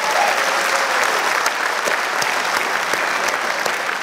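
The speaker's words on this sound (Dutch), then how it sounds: "Ik krijg nu applaus omdat ik nog leef, begrijp ik." Theatre audience at a New Year's Eve comedy show applauding, loud sustained clapping from a large crowd filling all four seconds, near and dense with no speech over it.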